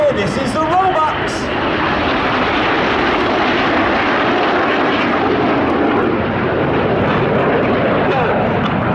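RAF Red Arrows jets roar overhead during a flying display at an air festival, a loud continuous engine rush that swells and holds, with a few brief high tones at the start.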